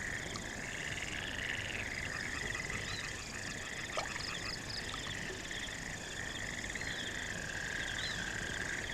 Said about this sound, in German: Siehst du die Frösche?